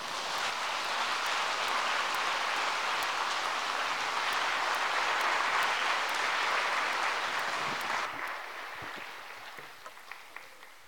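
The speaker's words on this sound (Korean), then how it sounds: "나오실 때 한번 또 박수 한번 하시죠." A congregation applauds in a church during a revival meeting. The loud, steady clapping holds for about eight seconds, then drops off sharply into a few scattered, isolated claps.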